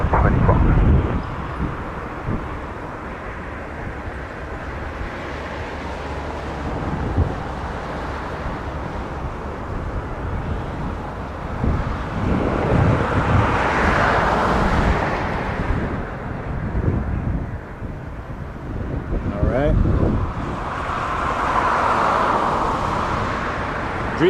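Boeing 787 Dreamliner airliner from Tel Aviv, an Air Canada flight at Toronto Pearson, rumbles at a distance as a broad rising and falling jet roar, with wind noise and someone talking over it.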